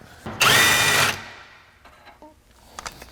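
A power tool spins a fastener off the battery tray of a Honda Element, giving one loud, close whirring burst of about a second, then quiet clinks and small metal clatter.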